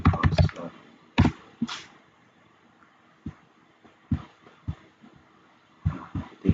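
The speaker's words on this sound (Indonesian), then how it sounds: "lalu kita ketik saja teman-teman." Someone types on a computer keyboard in short clusters of sharp, close key clacks separated by pauses, with a fast burst at the start and again near the end, and no talking.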